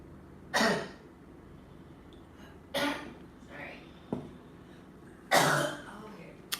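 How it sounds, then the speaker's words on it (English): A woman breaks into a coughing fit after a hit from a strong THC vape pen, with three or four harsh, separate bursts of coughing and a throat clear between them, close and loud against quiet pauses. "She's over there on that pleasant, THC cough fit, all right?"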